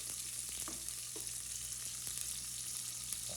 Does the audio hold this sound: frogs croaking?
no